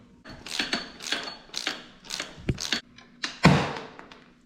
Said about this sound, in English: I'm about to use this T50 to take this joint out.